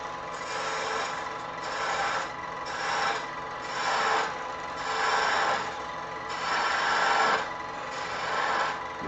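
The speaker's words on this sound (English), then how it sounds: "So I'm going to use a bowl gouge to waste away the majority of this material out here." A bowl gouge shaves wood on a spinning lathe while a baby rattle is turned. It makes a rhythmic, raspy hiss that swells and fades in about eight repeated passes over a low motor hum, with no talk.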